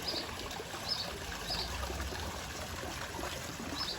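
Water pouring steadily into a koi pond during a water change, a continuous soft trickling and splashing stream heard alone at low volume.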